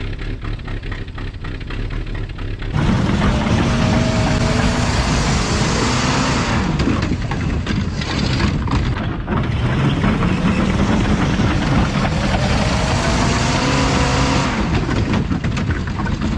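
An abandoned Jeep Wagoneer that sat for decades runs loud and rough up close, its engine surging through several revs and then settling back, alone without talk.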